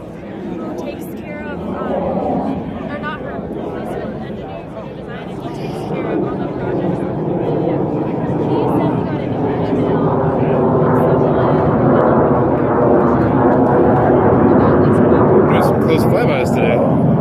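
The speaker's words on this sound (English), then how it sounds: "It's an A6 intruder from the Vietnam War, man." Loud, sustained roar of a Grumman A-6 Intruder, a Vietnam War-era jet, making a close flyby, building from a broad rumble into a steady, near engine wash over about seventeen seconds, with people talking faintly beneath it.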